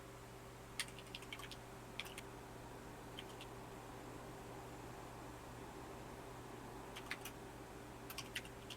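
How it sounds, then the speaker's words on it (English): Scattered, faint keyboard typing in a quiet room with a steady hum: a few brief clusters of clicks near the start, a long gap, then another burst of keystrokes toward the end. "What are you typing?"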